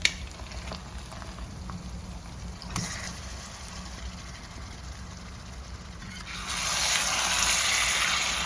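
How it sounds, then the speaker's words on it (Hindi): Low sizzling and bubbling of chicken frying in a pan, swelling into a louder, hissing sizzle near the end. "एक्चुअली पहले चिकन डाल के फ्राई करना है"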